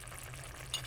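Soft sizzling hiss of bitter gourd leaves and sardines being stirred in a frying pan, faint and steady over a brief moment with one small scrape.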